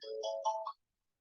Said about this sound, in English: have it chime for 10 seconds or 30 seconds or unlimited